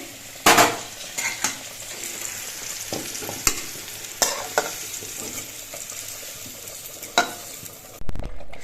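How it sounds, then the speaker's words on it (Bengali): A ladle stirs khichuri with added vegetables in a cooking pot, sharp scraping strokes at irregular intervals over a soft constant sizzle, close and clear. "সবজিটা দেওয়ার পর খিচুড়িটা আবার নেড়ে দিচ্ছি"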